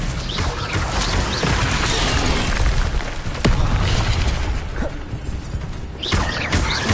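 An Expelliarmus spell goes off in a Hogwarts video game with booming, crashing magical blasts and sharp bursts over a dense, loud wash of battle noise.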